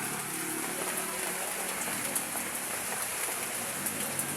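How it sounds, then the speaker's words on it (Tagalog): Steady, dense hiss of heavy typhoon rain pouring down, with no voices and a faint low tone near the start. "Ayan oh, lakas ng ulan."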